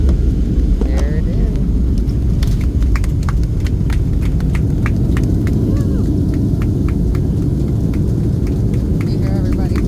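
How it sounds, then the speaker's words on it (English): Passengers clap aboard an airplane just after landing in Havana, with scattered, irregular claps over a loud, constant engine and cabin rumble and some voices. "You hear everybody clapping."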